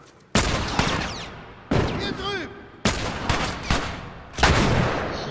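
Gunfire from a weapon in The Last of Us, heard as four loud, separate bursts, each a sharp blast that rings out and fades slowly before the next one, with no other sounds in between.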